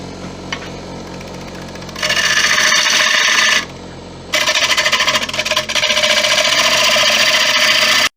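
A woodturning gouge being sharpened on a motor-driven grinder, with a steady motor hum and two long, bright, rasping grinding passes separated by a brief pause, close and loud.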